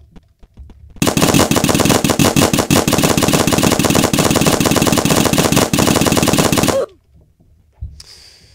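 Rapid, continuous automatic fire blasts from a paintball video game, loud and close for several seconds before stopping abruptly, followed by quieter game sounds.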